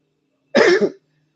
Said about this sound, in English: I'm all of a sudden coughing out of nowhere.